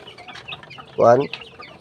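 Chickens in a coop, with a single clear cluck standing out above low background clucking and rustle, close by, while a person talks softly underneath.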